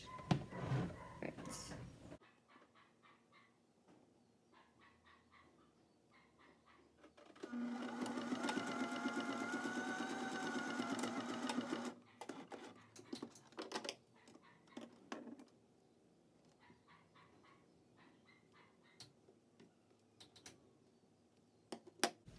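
A sewing machine running a straight stitch across a ninja-style face mask, one steady burst of whirring stitching lasting several seconds, bracketed by quieter clicks and handling sounds, with a little soft talk.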